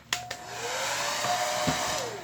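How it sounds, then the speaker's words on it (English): A hair dryer whirs steadily at close range after a couple of clicks, its airy roar holding constant before winding down at the end. "We're just going to use the hairdryer."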